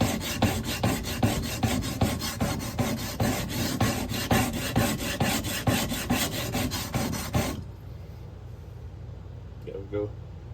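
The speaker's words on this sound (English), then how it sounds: "I sharpen these different than I would sharpen like a kitchen knife." A skinning knife scraped in steady, rapid back-and-forth strokes across a sharpening stone, a dense rhythmic rasping that runs close and loud for several seconds, then stops abruptly, leaving faint room noise and a small clink.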